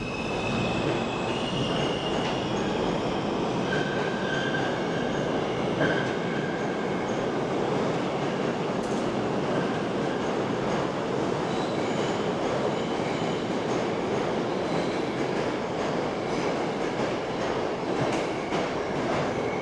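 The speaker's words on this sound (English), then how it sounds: "Always like watching the subway train go, so let's just watch that zoom away down here." A New York City subway train pulls away from the platform, a loud, steady rumble of wheels and rail noise running throughout with brief wheel squeals and clatter, no talking.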